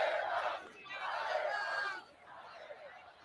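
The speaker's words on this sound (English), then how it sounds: "the crowd is chanting "Fire Fauci."" A large crowd at a political rally chanting a two-word slogan in unison, three loud rhythmic bursts separated by short pauses, with a roomy, echoing sound.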